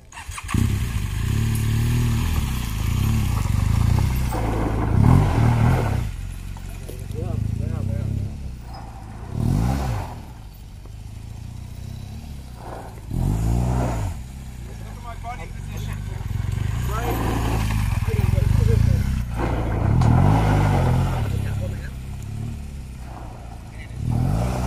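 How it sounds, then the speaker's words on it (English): A motorcycle engine rises and falls with bursts of throttle through a rear-brake skid turning into a power slide, moderately near, with someone talking throughout. "I'm gonna let the clutch out and add a little bit of gas to make the slide turn from braking to power"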